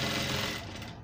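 A sewing machine stitching a hem with crinoline runs in a fast, steady mechanical chatter, close and continuous, easing slightly toward the end.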